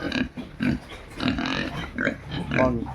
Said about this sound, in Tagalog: Dito naman tayo sa ating maliit na babuyan.